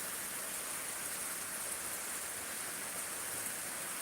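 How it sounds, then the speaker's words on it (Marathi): Steady, even rain falls with no wind, a quiet, unbroken broadband hiss throughout with no distinct drops or voices. "पाऊस पडलेला आहे तासभर पडला आहे"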